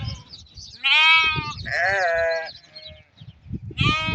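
Sheep from a flock of about 500 bleat loudly nearby, three drawn-out overlapping calls in a few seconds.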